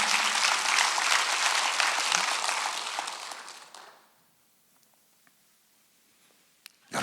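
A church congregation at a Korean Sunday worship service claps together in a dense burst of applause that holds for several seconds, then fades out into near silence with a few faint rustles.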